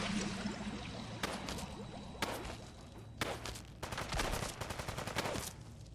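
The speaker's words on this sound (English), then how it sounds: "What is that guy shooting at?" An NPC fires a Bren gun in Fallout London, in several distant bursts of rapid shots spread through the clip over a low background rumble.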